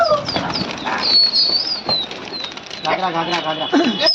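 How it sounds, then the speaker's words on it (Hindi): Bursts of fluttering wingbeats from several pigeons released in a pigeon-flying hobby session in Lucknow, India, mixed with bird calls and people talking nearby. "फिर से उड़ा दिया गया कबूतरों को।"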